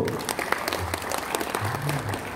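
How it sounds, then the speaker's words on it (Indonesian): An adult audience at an indoor business presentation applauds in a steady, dense burst of clapping throughout, with faint voices mixed beneath it. "tepuk tangan dulu Bapak Ibu"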